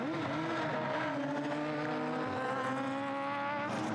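Radical race cars, including a PR6, circuit Rockingham in the 2010 Radical Clubman's Cup, a loud continuous engine roar with shifting pitch throughout and no voices.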